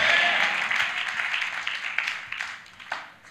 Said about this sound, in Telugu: ఈ పగటి వేళ క్యాన్సిల్ అయిపోయిందని నమ్మితే చప్పట్లు కొట్టాలి.